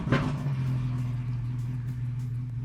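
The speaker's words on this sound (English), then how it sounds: "I'm gonna fire her up" Porsche 997 GT3 with a 600 hp DeMan 4.5-liter engine cranks and fires with a sharp bark, then settles into a steady, deep, loud idle nearby.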